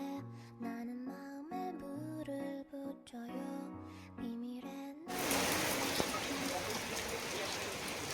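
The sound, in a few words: heavy rain falling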